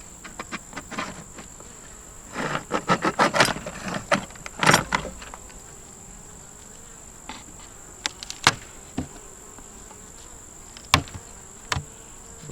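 Honey bees buzz in an opened double-deep hive while sharp, irregular knocks and scrapes sound close by, with quieter stretches of steady buzzing between the bursts.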